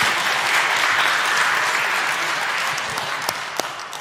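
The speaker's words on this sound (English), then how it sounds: "A round of applause for this brave individual." A talk audience applauds a volunteer: dense, sustained clapping from a full room, thinning slightly toward the end as a few close, sharper claps stand out.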